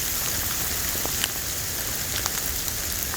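Steady rain pattering on foliage and ground along a bush walking track on the Cooloola Great Walk, a dense continuous hiss with occasional louder drops, close and even throughout with no voices.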